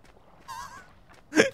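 A turkey in the video game Eco gives two short honking gobble calls, the second louder and sharper than the first, against near silence.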